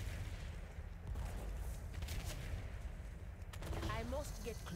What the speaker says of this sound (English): Just gotta keep firing at the gate.